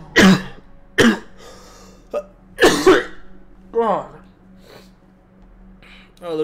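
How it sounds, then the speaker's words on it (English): Several harsh, hacking coughs and throat-clearing bursts from a person who had whooping cough as a child come in uneven spurts, close by, separated by brief pauses and a raspy, wheezy breath. "the reason my cough is so weird is because I had whooping cough as a kid"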